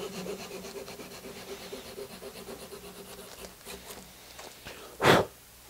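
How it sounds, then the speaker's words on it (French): A hand saw cuts wood for kumiko latticework in a repeating, close rasping rhythm of short strokes, ending in one louder scraping burst. "Je vais le retirer un peu à la scie."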